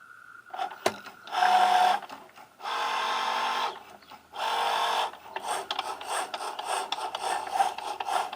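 A Cricut Joy Xtra cutting machine drawing with a dual-sided pen, whirring in several bursts of motor and pen movement with short pauses between them, close and fairly loud.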